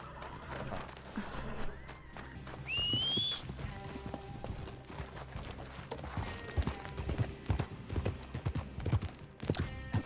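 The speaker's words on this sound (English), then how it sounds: "You can get your horse from here, Saf?" Horse hooves clip-clop in the RedM western role-play game, a steady walking rhythm running throughout with a brief whinny partway through, over ambient game sounds and some talk.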